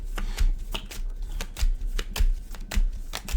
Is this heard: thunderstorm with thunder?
no